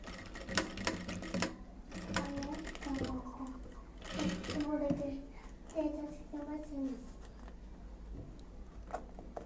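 A sewing machine stitches a frock in short, rapid bursts of clattering, interrupted by pauses. Someone talks in between and over the stitching.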